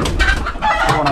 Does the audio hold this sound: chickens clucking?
yes